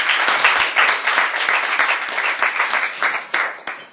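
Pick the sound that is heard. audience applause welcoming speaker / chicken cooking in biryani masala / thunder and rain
audience applause welcoming speaker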